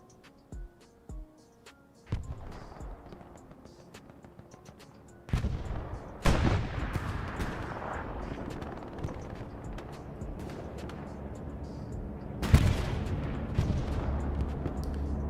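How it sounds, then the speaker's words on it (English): A distant bombing run in the WWII shooter Hell Let Loose on the Sainte-Mère-Église map: several heavy, booming blasts land one after another, each leaving a long rumbling tail, amid a steady wash of far-off gunfire. "Another bombing run. In the distance."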